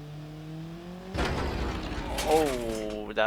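Simulated car engine in the Automation car company tycoon game, a steady tone that rises into a revving, changing-pitch engine sound, with a person talking over it.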